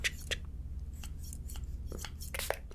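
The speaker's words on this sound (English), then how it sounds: "I'm gonna take the scissors and go in." Sharp, quiet snips of scissors cutting hair close by in a barbershop, a handful of crisp cuts spaced irregularly over a low background hum.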